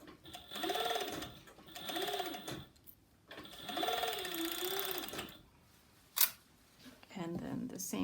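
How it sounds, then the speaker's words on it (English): A serger sewing machine whirs in short bursts while stitching a wrap dress, stopping and starting several times with quiet pauses between runs. A mechanical click sounds near the end. "I'm going to serge on and off again"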